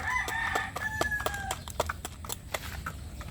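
A hen clucks and calls repeatedly in quick, loud, close bursts, with a brief harmonic crow-like tone, heard outdoors among backyard chickens with no talk.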